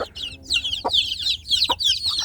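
Free-range village chickens, some chicks already well grown, make a busy mix of high, repeated peeping chirps and a few lower clucks, close by and fairly loud with no talk.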